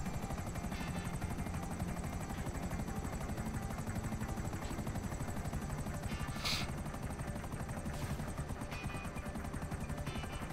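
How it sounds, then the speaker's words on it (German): A steady, rapid rotor thump of a helicopter in GTA Online drones throughout, with a brief sharp burst partway through. "Oh, dieser Hubschrauber."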